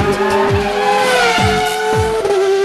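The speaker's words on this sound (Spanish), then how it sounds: "Los motores están encendidos." Car engines rev loudly and repeatedly, rising and falling pitch sweeps with some tire squeal, close and dominant with no talk over them.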